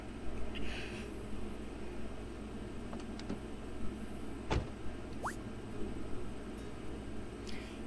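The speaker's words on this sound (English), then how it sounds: "Riding in a truck." A truck driving along in the farming game SunnySide, giving a steady low engine rumble with a few light clicks and a brief rising whistle, with no talking over it.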